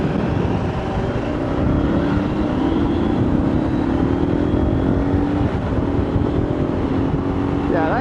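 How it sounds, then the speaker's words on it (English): An adventure motorcycle idles steadily and close up, a continuous loud engine drone with a slowly rising tone that holds for the whole stretch and draws level toward the end, alongside a KTM 790 Adventure R, a Triumph 900 Rally Pro and a KLR. "I haven't even turned my throttle yet. That's just idle."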